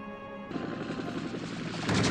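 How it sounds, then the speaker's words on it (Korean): A helicopter arrives in the 1967 James Bond film You Only Live Twice, its dense rotor clatter and engine roar starting abruptly and swelling louder toward the end, with no talk. "회사의 회장 오사토는 비서 그랜트와 함께 헬기를 타고 나타납니다."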